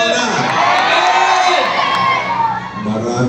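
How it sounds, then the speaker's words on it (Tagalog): A large crowd of adults and children at a church teachers' training seminar shouts and cheers loudly together, a dense, sustained roar lasting a few seconds before easing off. "Mas malakas na sigaw ang mga nasa Panginoon na."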